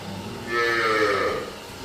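A dairy buffalo in its third calving, up for sale at a farm, lets out a single drawn-out moo, clear and close, with no talk around it.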